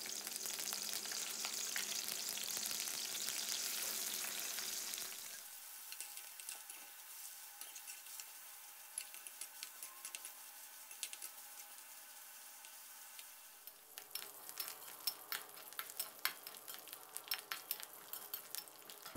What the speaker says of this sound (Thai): ให้เราผัดหมู3ชั้นของเรานะครับให้สุกเหลืองเข้มเลยนะครับ